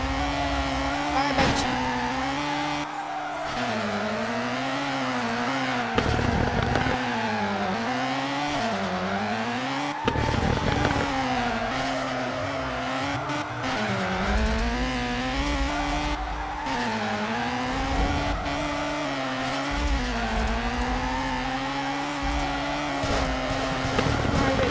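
Drift car in FR Legends, revving hard and loud with the pitch rising and falling, and tires squealing through slides. The engine sound carries on with no break, and a voice talks faintly underneath at times.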